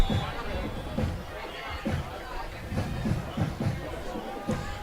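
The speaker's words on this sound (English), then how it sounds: "Got a good crowd tonight." A crowd murmurs and chatters at a high school football game between Appleton East and Fond du Lac, with scattered thumps and shouts, and a nearby voice talking over the hubbub.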